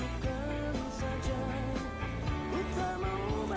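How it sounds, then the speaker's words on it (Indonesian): Music with a smooth preset played through Jabra Elite 4 Active earbuds, a continuous rhythmic track with steady beats and a mid-range melody, moderate and even, with no talking. "Nah, kalau smooth ini suara bassnya turun"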